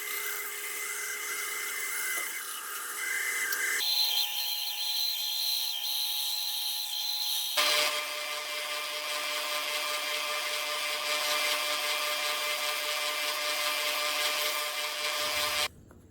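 A router follows a template to cut a 2 7/8 inch hole for inserts in scrap plywood, producing a loud, continuous high-pitched whine that changes tone as the bit bites in, running about fifteen seconds before stopping.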